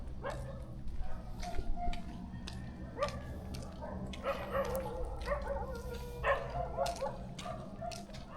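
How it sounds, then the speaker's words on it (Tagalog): Several dogs bark and yip in scattered bursts in a village, some near and some farther off, over a low outdoor rumble. "Ayan, daming aso."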